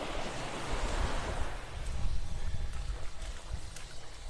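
Ocean surf washing in at Vanderbilt Beach in North Naples, Florida, a continuous broad rushing wash with some wind on the microphone, steady and fairly close, with no one speaking.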